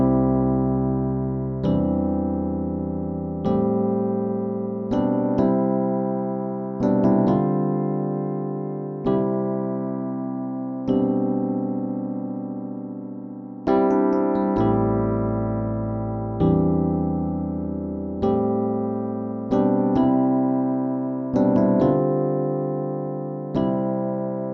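A solo piano plays the verse chords of a song, a steady series of struck chords that each ring and decay in an even rhythm, with no talking.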